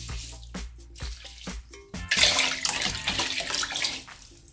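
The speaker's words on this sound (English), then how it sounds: "Now in that, I'm gonna add in the broth, and it goes." Broth is poured into a pan of rice, a splashy liquid rush that swells after a few soft knocks and then runs on steadily and close before easing off near the end, with no talking.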